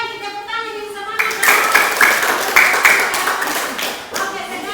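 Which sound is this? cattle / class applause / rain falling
class applause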